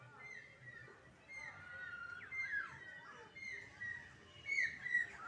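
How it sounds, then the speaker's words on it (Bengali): Birds chirping all around outdoors on a hot, dry day, thin intermittent high tweets and calls at low level, fairly distant, with quiet background. "চারিদিকে পাখিগুলো কেমন কিচিরমিচির করে ডাকছে"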